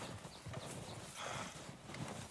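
An Arabian horse in Red Dead Redemption 2 clops its hooves in a quick steady rhythm, close and moderately loud, with a short whinny-like call midway.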